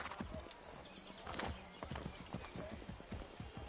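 Horse hooves clip-clop steadily in Assassin's Creed 3 Remastered, a close, continuous rhythmic patter with an occasional snort or whinny mixed in.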